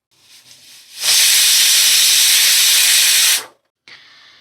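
Pressure cooker venting steam in a home kitchen: after a soft lead-in, a loud steady hiss rushes out for about two seconds, cuts off sharply, then a brief quieter hiss follows.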